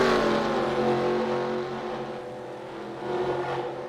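Race cars lapping the circuit at Vancouver, their engines a loud continuous roar that swells and fades slightly as the cars pass by.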